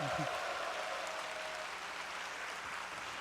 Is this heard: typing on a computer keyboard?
no